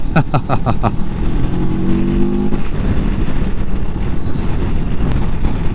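A CFMOTO Adventura 650 motorcycle rides on Pirelli tyres through a pronounced curve, its engine droning beneath heavy, steady wind rush at the microphone, with a brief rising engine note early on.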